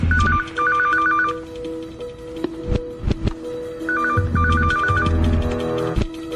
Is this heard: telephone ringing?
yes